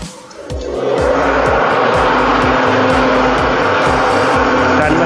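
A stone hammer mill fitted with a cyclone starts up after a brief quiet moment and then runs loud and steady, a dense mechanical roar with a fast, repeating low thump from the rotating hammers.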